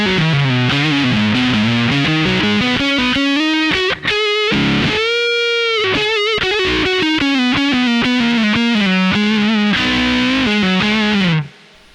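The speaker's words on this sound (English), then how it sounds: "if I go on to the Fuchs fuzz, you get a more spitty sort of thing going on" Electric guitar through a Fuchs fuzz pedal on a Yamaha Revstar RS502 with P90 pickups, giving a spitty, sputtering fuzz tone; a continuous loud melodic lead line with bends and a brief pause around the middle, no talking.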